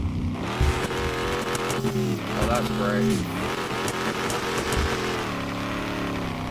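A car with a poor gear ratio in a racing video game revs continuously, its engine note rising and dipping through shifts with faint tire noise, while someone talks briefly over it.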